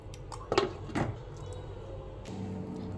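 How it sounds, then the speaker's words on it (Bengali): Shrimp curry is poured from a pan into a bowl, with a couple of soft metallic clunks and scrapes close by, followed by a faint, quiet settling noise. "তরকারিটা এখন একটি পাত্রে ঢেলে নেব।"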